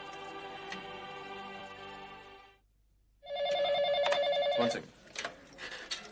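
A telephone rings after a number is dialed: earlier tonal sounds fade into a short silence, then a loud, close, rapidly pulsing ring lasts about a second and a half before quieter sounds follow.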